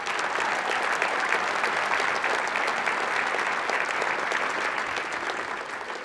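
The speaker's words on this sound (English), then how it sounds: "Can we give all of these a round of applause?" Dense, even applause from a crowd at a Legacy of Hope event, steady and sustained throughout with a gentle fade toward the close.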